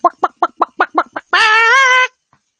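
A chicken, or chook, gives a string of about seven quick, evenly spaced clucks and then one long, drawn-out squawk. It sounds close and clear, with no talking.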